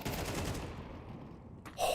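Gunfire from a Counter-Strike 2 match in a professional grand final, a dense burst of shots up front that thins out, then a sharp louder crack near the end.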